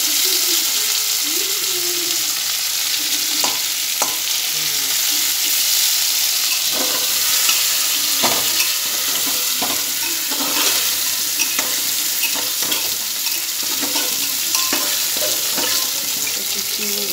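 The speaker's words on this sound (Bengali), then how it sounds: "পনির হচ্ছে একটু খুঁটি দিয়ে নেড়ে রাখা" Paneer is stirred with a spatula in a hot pan under a loud, continuous sizzle, with repeated close scrapes and taps of the spatula throughout.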